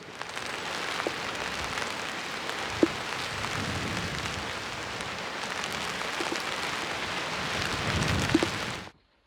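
Steady rain pattering on a surface nearby at a campsite in Scotland, a dense hiss with occasional heavier drips, no voices.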